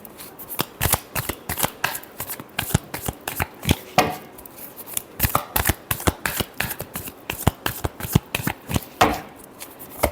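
Tarot cards shuffled by hand, a dense run of quick, crisp riffles and slaps repeating steadily throughout, close and fairly loud with no talk over it.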